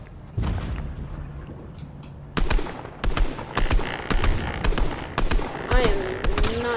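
Gunfire in the video game Fortnite, a series of sharp, loud shots in quick bursts with booming impacts, separated by short gaps, with occasional game effects in between.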